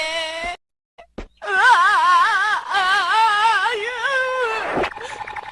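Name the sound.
child crying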